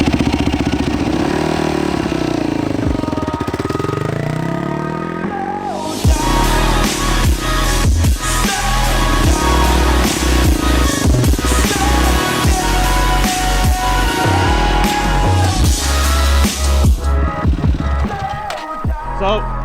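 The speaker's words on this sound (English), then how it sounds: "It took us, took me probably 4 or 5 tries to get that bike started." A heavy motorcycle fires up after cranking, its engine catching with loud clattery bursts and then settling into a steady, close rumbling run with uneven revs.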